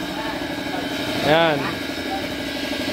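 A motorcycle engine idles steadily after a tune-up and ignition coil wire readjustment, a constant mid-pitched hum running beneath a brief spoken word.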